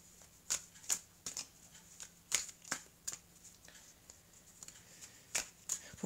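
Oracle cards are shuffled and handled close up, giving a series of soft, crisp riffling snaps and taps at an irregular rhythm over near silence.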